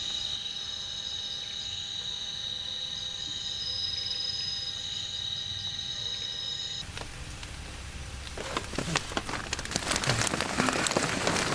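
Steady rain falls through a forest at night in bear country, a broad wash of drops alongside a continuous insect or cricket drone; past midway the insect tone fades as heavier, closer drops patter and splash irregularly.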